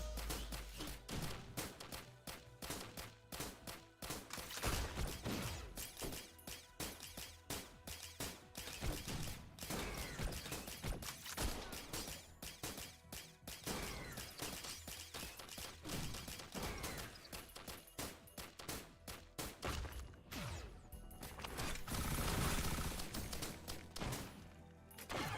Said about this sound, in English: Love all those fireworks.